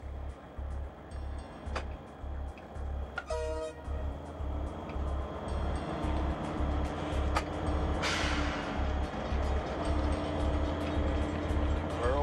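A large train rolls along the rails in New Zealand, a steady low rumble with a rhythmic pulsing beat, briefly joined by sharp clanking and a rising hiss as it keeps moving.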